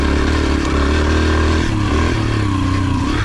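Pit bike engine droning steadily while riding across sand dunes toward a hill climb, loud and close throughout with a continuous mid-pitched motor tone and slight pitch shifts.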